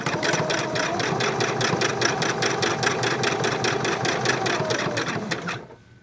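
Sewing machine stitching fabric for a small Christmas ornament made from charm squares, a rapid, steady whirring stitch rhythm close by that stops abruptly near the end, with no talk.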